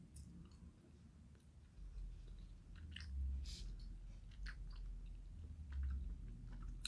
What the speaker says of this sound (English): This one you really have to chew to like eat, you know?